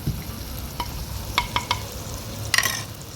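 Masala spices and garlic fry in a home cooking pan with a little water added, giving a steady low sizzle under a few sharp metallic clinks of stirring.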